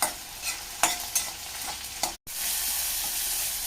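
Tomato and green chillies softening in a hot pan, fried with curry leaves for a fish curry, sizzle steadily up close while a spoon scrapes and stirs in a few distinct strokes, with one brief dropout mid-way.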